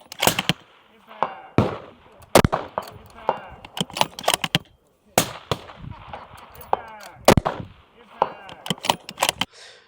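Sharp gunshots crack one after another at a shooting match, each followed by a ringing metallic ping as rounds strike steel plates, in uneven bursts with short pauses between strings.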